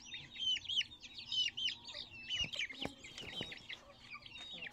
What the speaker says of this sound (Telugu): తూర్పు జాతి కోళ్ళు అంటే అన్నిటికీ ఇదే విధంగా ఉంటుంది పిల్లలు